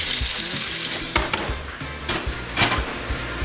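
Dressing poured into a hot cast iron pan hisses up into a loud sizzle, with a few sharp surges of spitting and light clatter of a utensil, close by.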